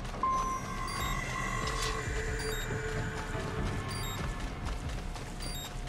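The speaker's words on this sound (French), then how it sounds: "Ah, puis je vais avoir le bip bip" Low-health warning in Metal Gear Rising, a faint repeating electronic beep pattern running under a dense, steady wash of game noise with no talk.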